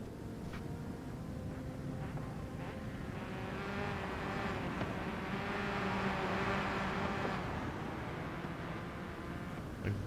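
Race cars in the Forza Horizon 5 racing game sweep past on a track day in a smooth rising and falling engine drone, swelling toward the middle and then fading, with no talk over it.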